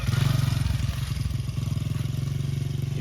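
A Honda CRF100F kids' dirt bike engine putters nearby with a rhythmic, pulsing thump as it rides, a steady mid-pitched motorcycle drone over about three seconds.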